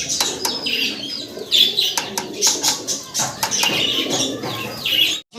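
Pigeons kept by a small-scale breeder coo steadily and close by, with chirps, bright calls and occasional wing flaps layered into a continuous busy loft chorus.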